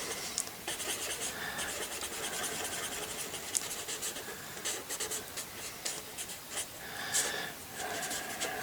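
Soft, continuous scratchy rubbing of a blending stump on paper, in short repeated strokes, close and fairly quiet.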